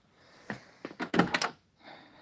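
A heavy old car door, on a vehicle being started for the first time in 30 years, swings and thuds shut in a short cluster of knocks and a latch clunk, close and fairly quiet, with no talking.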